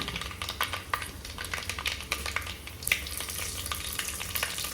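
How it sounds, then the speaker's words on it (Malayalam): Dried red chillies are added to hot oil with fenugreek for a Kerala chicken curry, producing a steady close crackling sizzle with scattered pops and faint stirring scrapes throughout. "ഇനി എടുത്തു വെച്ച ആ മുളകുണ്ടല്ലോ കായ്മുളക് അതും കൂടെ നമുക്ക് ഇട്ട് കൊടുക്കണം"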